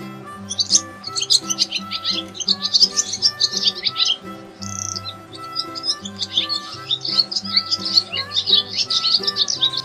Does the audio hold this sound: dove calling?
yes